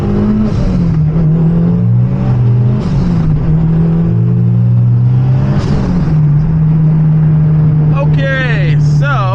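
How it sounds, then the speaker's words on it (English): A Honda Civic drives and accelerates, its engine droning loudly and shifting in pitch as it picks up speed. Wind and road noise sit underneath, and a sharp rising whine comes in near the end. "today we're gonna go out driving in my Honda Civic"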